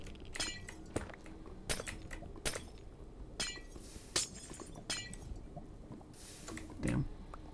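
Glowstone blocks are broken one after another in Minecraft, a series of crisp glass clinks and shattering bursts spaced unevenly over several seconds, fairly close and clear.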